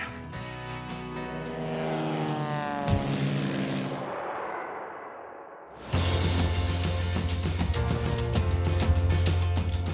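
An airplane in flight on a two-hour trip north from Perth to Broome, its engine giving a steady droning hum that fades briefly, then returns louder and fuller as an even, continuous roar.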